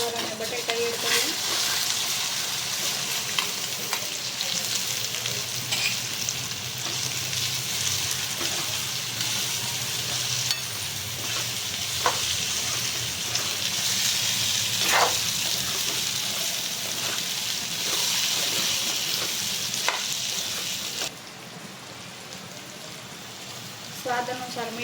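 Cauliflower and potato pieces fry in spiced oil for a village-style Gujarati curry, a loud, continuous close sizzle with repeated scraping and clattering stirs throughout, easing slightly near the end.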